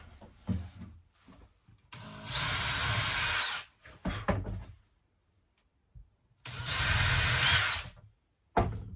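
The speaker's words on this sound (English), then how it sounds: "I'd say I've put in about 4/5 of those screws" A power drill drives screws into a piano hinge during a door-building job, in two long, loud bursts of steady whirring with shorter knocks and handling noises between them, and no talk.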